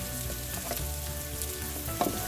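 Potato wedges fry in an uncovered pan, giving a dense, continuous crackling sizzle at close range with a slight bump near the end.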